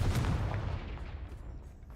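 Confringo blasting spell cast in Hogwarts Legacy, a single loud, deep explosive boom that rumbles and fades away over about two seconds.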